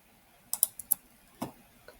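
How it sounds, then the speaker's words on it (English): A handful of soft, sharp clicks of the delete key on a computer keyboard, spaced irregularly in a quiet room. "hit the delete on the keyboard"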